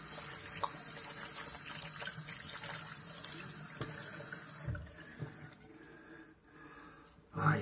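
Tap water runs steadily into a sink while an armpit is washed with a bar of soap. The flow cuts off partway, leaving quieter rubbing and dripping sounds before a final splash.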